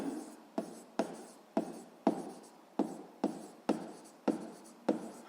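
Chalk or marker strokes on a board during a physics lesson, about a dozen sharp evenly spaced scratchy strokes in steady rhythm, close and fairly faint, with no talking.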